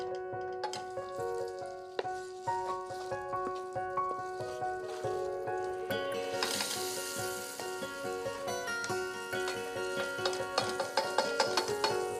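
Desi ghee heats in a pan before cumin is tempered in it, with a steady sizzle and frying crackle running throughout and growing brighter and busier partway through, under background music.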